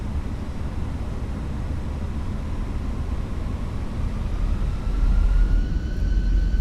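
Fenix A320 jet engines spool up for takeoff in a flight-simulator game: a steady broadband roar with a thin whine that climbs slowly in pitch, swelling louder over the final seconds.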